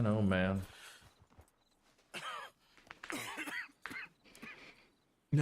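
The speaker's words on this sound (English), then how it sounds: "No, he's like, don't cough near me." A character coughs in the video game Red Dead Redemption 2, with a few short, harsh coughs mixed among in-game voices.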